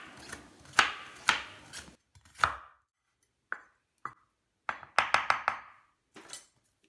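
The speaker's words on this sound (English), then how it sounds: "So here I am thinly slicing these bitter gourds one by one." Bitter gourds are sliced thinly with a knife on a board, a run of crisp close chops in uneven bursts with short pauses between pieces, no talk.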